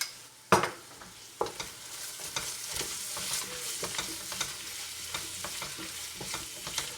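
Garlic ginger paste hits a hot pan with a sharp sizzle, then keeps frying steadily while a utensil scrapes and stirs it in irregular clicks.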